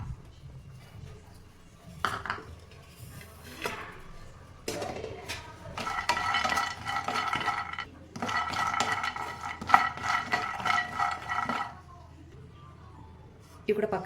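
Cashews for dry-fruit kajjikayalu roast in a pan over a medium flame, with intermittent scraping and clinking of a utensil against the pan in bursts, while a voice talks over it.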